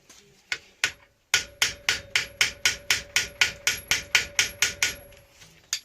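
A Phillips screwdriver is struck repeatedly with a hammer to loosen a stuck screw on a Honda CB250RS motorcycle. After a few loose taps and a pause, about sixteen sharp, evenly spaced metallic blows follow close by.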